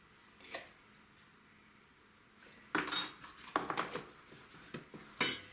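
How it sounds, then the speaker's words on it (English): Flour and instant yeast are stirred in a bowl, making faint scraping at first, then a run of louder clinks and taps of the utensil against the bowl, close up, with no talking. "And stir that up a bit."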